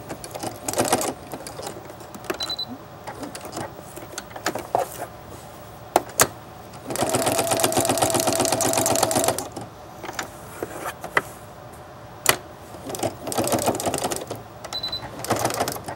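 A sewing machine runs in short and long bursts to stitch Velcro onto fabric, its needle clattering rapidly and evenly, with a sustained run in the middle and clicks and handling noises between bursts.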